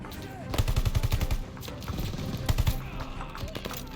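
Rapid gunfire bursts crackle in Call of Duty: Vanguard, a World War style battle, with loud close automatic strings and scattered shots, while a player talks quietly underneath.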